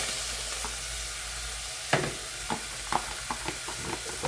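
Half a diced yellow onion sautés in a pan, a steady close sizzle broken by a string of spoon or spatula scrapes and knocks as it is stirred, no voices.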